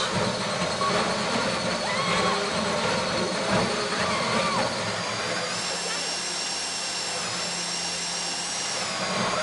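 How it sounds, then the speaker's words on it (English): A drill bores into a safety deposit box during a bank heist in a video game, a continuous grinding whine with rising metallic pitch, loud and steady, mixed with game noise and voices. "That drill got another gear?"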